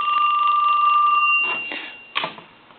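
A Western Electric 2554 wall telephone under repair rings its bell in a steady metallic trill, then breaks off into a couple of short, uneven jangles as the ringing falters; close and fairly loud, with no one speaking.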